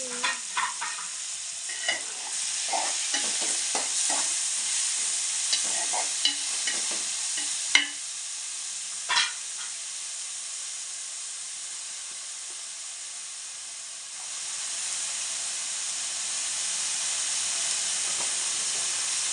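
Dried fish frying in a pan with onion, chili and salt, a constant hissing sizzle broken by repeated stirring clinks and scrapes, steady and close throughout.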